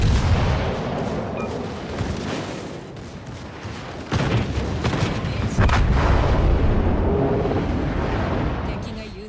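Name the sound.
gunfire in a video game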